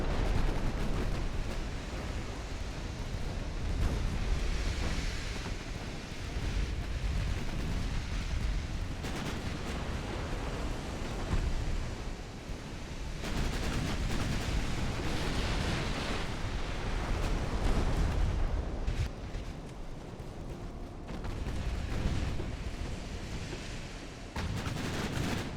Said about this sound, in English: That thing just sent off a volley of torpedoes, didn't it?